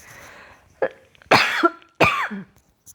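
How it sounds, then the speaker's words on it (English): A few harsh coughs up close from allergies, three separate bursts in quick succession, loud and raspy with short pauses between them. "Excuse me, I'm going to have to cough."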